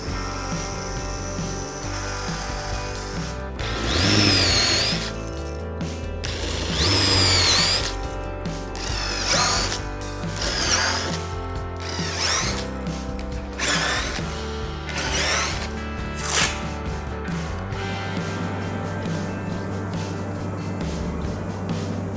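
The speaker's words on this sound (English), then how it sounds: "This joint in the middle, I'm just going to domino" A domino joiner whirs in repeated short bursts cutting mortises for a wooden door lining joint, each cut spinning up and winding down in a steady rhythm, loud and close, with no talking.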